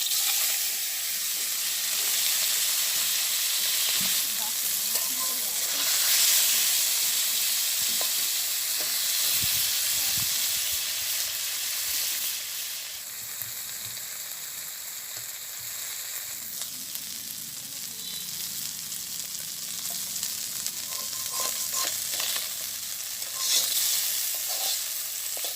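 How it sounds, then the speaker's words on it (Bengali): Small puti fish frying in hot oil in a village kitchen, giving a loud, continuous crackling sizzle with bursts of spattering and steam hiss that run throughout with no voices. "তেল গরম হয়ে গেছে, আমি এখন মাছটা ভাজি করে নেব।"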